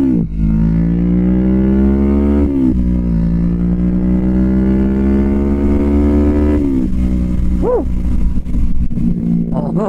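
A Kawasaki Vulcan S 650 Cafe ABS motorcycle riding, its engine droning loud and close with steady harmonic tone, shifting pitch as it revs between gears, and a brief rising rev near the end.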